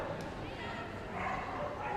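A loose dog barks and yips at a Crufts flyball event, faint and partly buried under a loud crowded arena hum while a commentator talks.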